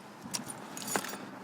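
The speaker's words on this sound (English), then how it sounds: "I'm gonna take the keys out of the ignition for fun." Keys jangle close by as they are pulled from the ignition of a 1981 Audi 4000 5+5. The metallic rattle and clinks come in two quick flurries over a low background hum.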